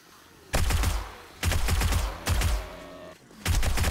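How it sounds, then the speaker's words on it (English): A submachine gun fires in the survival game 7 Days to Die during a nightmare-difficulty horde night. Four loud, sustained bursts of rapid automatic fire come with short gaps between them, and no one talks. "let's try some SMG action"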